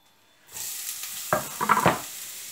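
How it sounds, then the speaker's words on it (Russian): Steady sizzling of onion and carrot sautéing in a frying pan, with a few louder scraping stirs near the end; no talking. "Пока пассируется лук и морковь"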